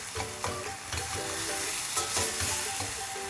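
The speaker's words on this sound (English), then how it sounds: "I'm going to mash it down a little bit." Cooked tomatoes for shakshouka sizzle in a pan while being mashed down, with soft rhythmic scraping and pressing strokes over a steady frying hiss, quiet and close.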